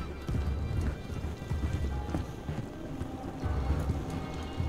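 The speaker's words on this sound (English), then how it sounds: "Hear footsteps." Footsteps in the video game Call of Duty Modern Warfare 3, clearing a mansion: a quick run of soft, thudding steps at a steady pace, moderately close, with some background noise.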